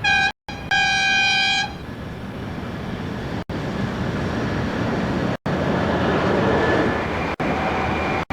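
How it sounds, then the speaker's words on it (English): Diesel rail cars rumble steadily along in the Australian outback, opening with a loud multi-tone horn blast, then continuous rail noise with faint tonal squeals. "These are the Bluebird rail cars."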